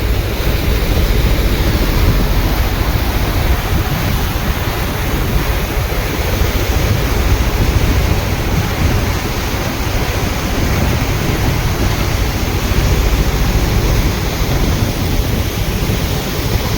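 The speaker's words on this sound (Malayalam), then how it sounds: "നല്ല സ്പീഡിലാണ് ബോട്ട് പൊയ്ക്കൊണ്ടിരിക്കുന്നത്." A boat speeds along with a constant loud roar of rushing water and wind, unbroken and steady throughout, with no one talking.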